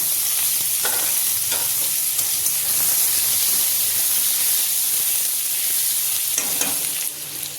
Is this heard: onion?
yes